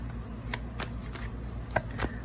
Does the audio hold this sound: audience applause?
no